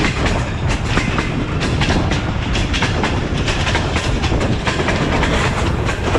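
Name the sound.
Allama Iqbal Express train running through Mehta Suja station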